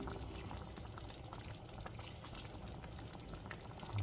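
A pot of Cajun lemon chicken stew simmering on low heat, a faint steady bubbling and soft sizzle, continuous and quiet with no voices.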